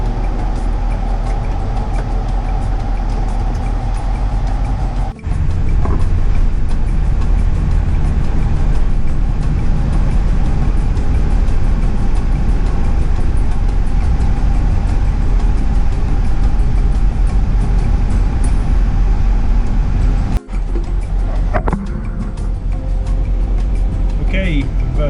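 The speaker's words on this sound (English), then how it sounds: "All aboard the adventure bus." A used Mennonite church bus drives along with a constant low engine drone and road rumble from inside the cabin, broken by two brief dips, while people talk over the noise.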